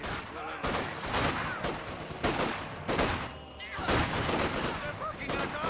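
MG42 machine gun fire in Company of Heroes 2, rapid bursts and scattered shots rattling across a battle soundscape, with a commentator talking over the gunfire.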